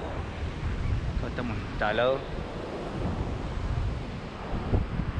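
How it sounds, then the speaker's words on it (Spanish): Ocean surf rolling in at Barra da Lagoa beach in Florianópolis, a steady broad wash of waves with wind buffeting the microphone, continuous and fairly loud under a voice speaking briefly. "hay unos olones por allá atrás"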